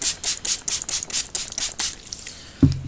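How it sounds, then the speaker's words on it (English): A spray bottle of water is pumped about a dozen times in a quick, even rhythm, each short hissing spritz close by, followed by a dull knock. "I'm going to use this is water. Just going to spray that."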